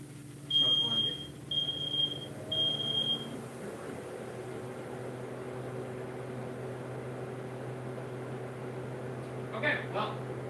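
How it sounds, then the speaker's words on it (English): Three high-pitched smoke alarm beeps sound in quick succession in a home kitchen, followed by a low steady hum and faint, muffled voices near the end. "Legitimately, I didn't know there was a smoke alarm here."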